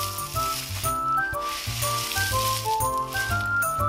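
A handmade balloon squishy filled with bread crumbs is squeezed, giving a steady crackling, crunchy rustle under a tuneful background melody, close and fairly loud throughout.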